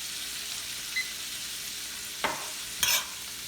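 Peppers and onions cook down in a pan with a soft, even sizzle. A few stirring scrapes and clinks rise above it, the last the loudest, and no one talks.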